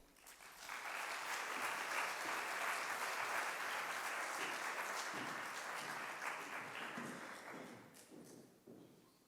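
An audience applauds to welcome speakers onto a stage at a fashion and technology event, with steady, sustained clapping from a crowd that swells and then gradually tapers off.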